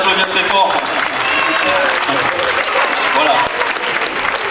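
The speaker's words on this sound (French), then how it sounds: "on peut les applaudir très fort" An audience at a ventriloquism show claps steadily for the performers throughout, with someone talking over the applause.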